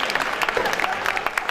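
An audience at a Hindi poetry gathering applauds for Sandeep, a short burst of lively, close clapping from a packed crowd.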